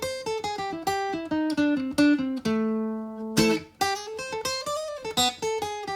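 Electric guitar picking a run of single minor-scale notes that mix a major seventh with a flat fifth, one note held longer midway, played alone at a moderate, steady level.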